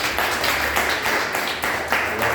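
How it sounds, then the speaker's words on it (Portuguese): A church congregation claps together in praise to God, a loud, dense and steady patter of hands that carries through the whole moment with a few voices mixed in. "Vamos levantar um louvor de palmas bem forte a Deus."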